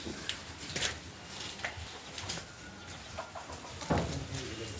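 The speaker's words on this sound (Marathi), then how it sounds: "आम्ही म्हशी बरोबर आम्ही कोंबड्या पण पाळलेले आहेत" Chickens cluck in short, scattered bursts against a quiet outdoor background, some calls sharper and nearer than others.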